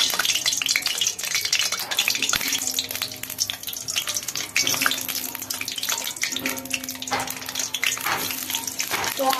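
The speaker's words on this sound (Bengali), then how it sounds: "গরম হয়ে গেছে, এবার আমি আলুগুলো ছেড়ে দেবো।" Potatoes dropped into hot oil for a Kolkata-style chicken biryani, a loud, dense, bubbling sizzle running steadily throughout, close by, with occasional clinks and stirring scrapes and no speech.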